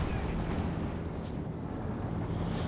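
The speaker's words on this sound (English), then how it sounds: "calling a Stuka bomb drop there" A Stuka bomb drop in the video game Company of Heroes 2, a dense, continuous roar of explosions and battle rumble that fills the whole stretch at a steady loudness.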